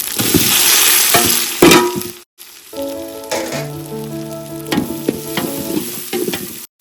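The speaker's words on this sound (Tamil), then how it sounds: "இஞ்சி பூண்டு பேஸ்ட்டு நல்லா பச்சை வடை போகிற அந்த ராஸ்மல் போகிற வரைக்கும் நல்லா ஃப்ரை பண்ணணும்." Ginger garlic paste and tomatoes fry in a pan, part of making a mushroom biryani. Loud sizzling is broken by sharp utensil clinks and scrapes. A brief silence follows, then frying resumes with a ringing, tonal metallic clatter.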